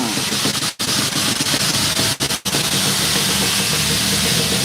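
A 1997 Yamaha RX-King motorcycle engine idles steadily with a constant low rumble and broadband hiss, briefly cut by two or three short dropouts.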